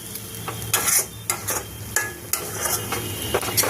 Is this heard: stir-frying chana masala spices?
yes